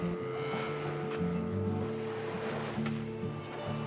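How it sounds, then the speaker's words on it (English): Gentle ocean swells wash around a sailboat on an overnight passage toward New York City in light wind, heard as a soft, continuous wash with steady low tonal hums underneath and no talking. "Like the big swells instead of like choppy little waves."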